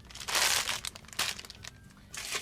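A bag of plastic Easter grass in mixed green, pink and yellow crinkles and rustles close up in several bursts, loud crackling swells separated by brief quieter moments, with no talking.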